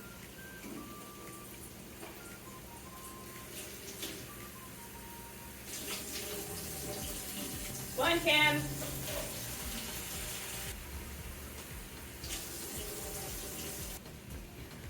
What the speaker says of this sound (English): pour out the juice with the lid still on it, and then just let water run through there